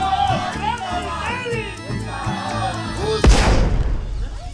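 A sudden loud bang of an electrical transformer blowing up bursts out after several seconds of crowd chatter and voices, followed by a crackling roar as people keep talking.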